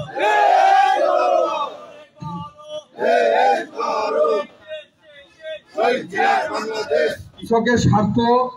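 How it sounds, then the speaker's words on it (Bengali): A crowd at a BNP political rally in Pabna chants a party slogan in loud, unison bursts, with short pauses between the repeated shouted phrases. "বিএনপি এই জন্য আপনাদের স্লোগান দেন গড়ো গড়ো দেশ গড়ো"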